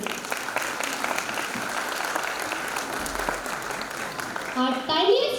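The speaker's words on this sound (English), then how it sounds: "Parents, please give them a big round of applause." Parents applaud at a preschool annual function, a dense, steady round of clapping from a seated audience with a few children's voices rising near the end.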